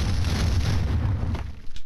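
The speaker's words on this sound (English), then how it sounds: "We throw grenades at each other!" A grenade blast in the shooter game Max Payne 2, a loud low rumbling boom that holds briefly and then tails off near the end.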